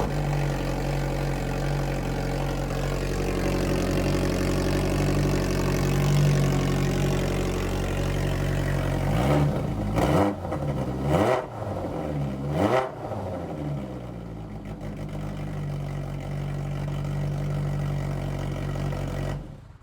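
A Polaris Pro R with an RPM Sport muffler idles with a deep, steady rumble, then snaps through several sharp revs before settling back to idle, loud and close with no talking.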